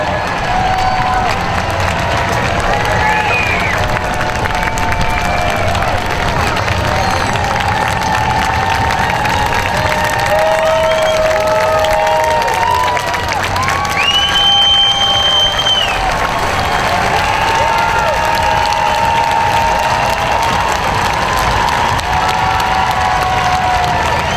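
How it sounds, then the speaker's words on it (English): Large outdoor crowd at a county fair monster truck wheelie contest cheers, claps and shouts continuously and loudly, with children's yells and whistles rising over the steady roar throughout. "You guys get to choose the winner by your applause."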